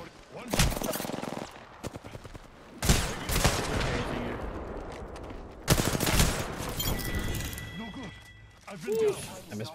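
Bursts of Apex Legends gunfire crack out in three loud volleys, each trailing off into clatter and mechanical reloading noises, with a voice talking between shots.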